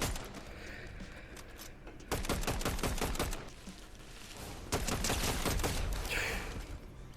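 Gunfire in the Fortnite video game, repeated rapid bursts of shots in dense clusters over steady background game noise, fairly faint in the overall mix.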